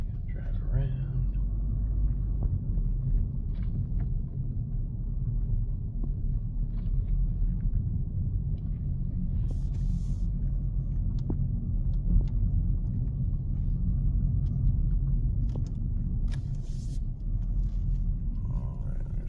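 A car drives around town past a grocery store, its engine and road noise a steady low rumble throughout with occasional faint clicks and a voice speaking briefly over it.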